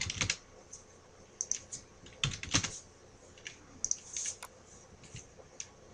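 Typing on a computer keyboard while entering a search in the Windows 7 Control Panel: irregular clusters of close, crisp key clicks with brief pauses between bursts, and no talking.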